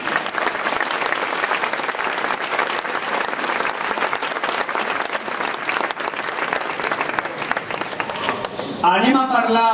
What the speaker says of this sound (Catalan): hay que donar-li un aplaudiment per lo bé que ha fet el fester